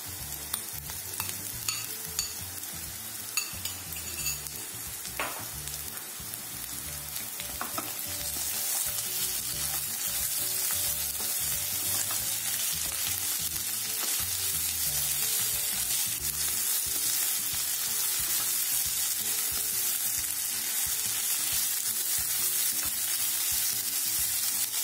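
Grated fresh turmeric frying with onions in a pan, a steady close sizzle with occasional stirring scrapes and clinks, growing a little louder and denser partway through, with no talking.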